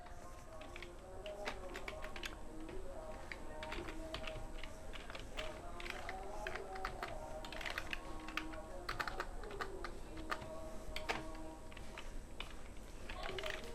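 Steady typing on a computer keyboard while building a letterhead in Microsoft Publisher, with quick, irregular key clicks running continuously at close range over a faint background hum, and a few louder taps standing out.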